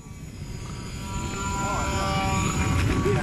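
A Parkzone Mini P-51 radio-controlled plane in flight, its small motor giving a continuous whine that swells as it nears, heard under people talking close by.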